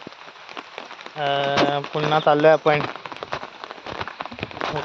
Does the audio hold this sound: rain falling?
yes